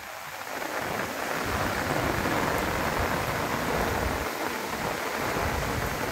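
Heavy monsoon rain pours steadily in the Konkan near Rajapur, with floodwater rushing over a bridge by the Arjuna river, a dense, loud, unbroken wash of noise with no talk.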